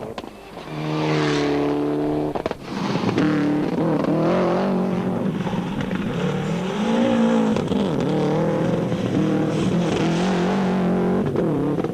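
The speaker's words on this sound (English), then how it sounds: "Johnny Gemmel and Marty Olivier were less than a handful of seconds adrift in their L&J plant Lancer, while the Subaru runners held on gamely" Rally cars, including a Mitsubishi Lancer and Subarus, race on a stage of the 2005 Volkswagen Rally: loud, close engines rev and accelerate with shifting pitch, steady throughout, alone without talk.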